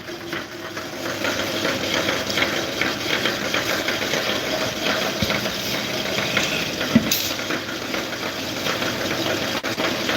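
A stone grinding machine grinds masala spice powder, giving a steady, continuous mechanical drone with a faint rhythmic churn. The sound stays at an even loudness throughout, with no voices.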